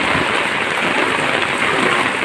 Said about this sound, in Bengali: বাহিরে আসাতে বোঝা যাইতেছে যে কত পরিমাণে বৃষ্টি হচ্ছে